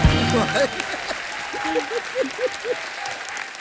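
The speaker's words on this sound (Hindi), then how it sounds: "एक बार जोरदार तालियां हो जाए गैंग्स ऑफ वसेपुर की पूरी स्टार कास्ट के लिए" A studio audience at The Kapil Sharma Show, a comedy talk show, claps in a loud, dense burst of applause, with a voice singing or calling out over it.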